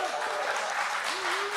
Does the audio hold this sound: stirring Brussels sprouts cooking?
no